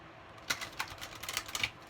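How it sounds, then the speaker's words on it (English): An oracle card deck shuffled vertically by hand, a quiet run of quick papery card flicks and taps in an uneven rapid patter. "So let's start with the vertical shuffle."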